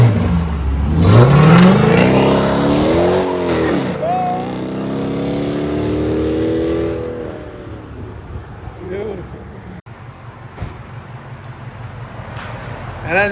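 A 2015 Dodge Charger R/T with the 5.7L HEMI V8 revs hard, its exhaust note sweeping up and falling back in loud, close throttle blips before easing to a low idle, with voices talking nearby.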